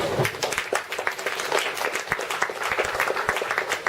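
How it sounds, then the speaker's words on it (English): An audience at a book launch claps enthusiastically, a brisk mix of individual claps close by within a steady round of applause. "Round of applause for Lim Cheng Ju."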